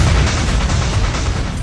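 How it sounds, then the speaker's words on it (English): A colossal explosion tears through a North Sea oil platform, a loud, sustained roaring blast with crackling, rumbling debris filling the whole span. "the colossal explosion at 10:50 p.m. rips the end of it and opens up a new escape route"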